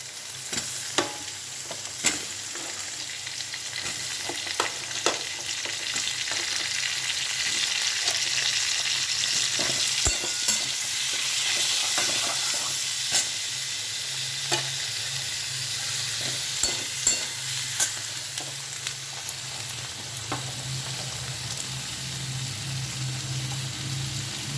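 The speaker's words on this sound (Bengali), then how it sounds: "একে একে পেঁয়াজগুলো সুন্দর করে ভেজে নেবো।" Steady sizzling of onions frying in a pan, with occasional clinks and stirring scrapes over a continuous hiss.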